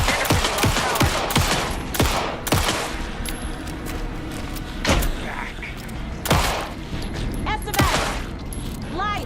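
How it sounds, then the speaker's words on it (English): Gunfire in the video game Alan Wake 2 during the final boss fight: loud, sharp shots and quick bursts spaced irregularly, mixed with thuds and other game effects. "Anderson, pin him down with gunfire for me to get the light on him."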